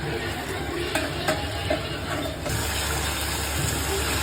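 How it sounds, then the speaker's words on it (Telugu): Chicken with tomato deep frying in its own released water in a pan, a constant bubbling sizzle with occasional stirring clinks, close and moderately loud, over a low steady hum. "ఇదండి కలుపుకోలేలా దగ్గర డీప్ ఫ్రై అవుతూ ఉంటుంది."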